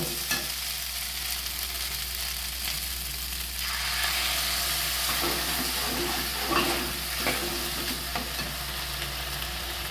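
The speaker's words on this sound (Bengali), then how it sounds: "কিছুক্ষণ কষানোর পরে সুন্দর তেল ছেড়ে দিয়েছে। এবার আমি এতে একটু জল দেব।" Water added to spices sautéed in oil until the oil separates, for a rohu or catla fish-head muri ghonto, bringing a burst of loud sizzling and hissing over a steady frying crackle, with occasional stirring.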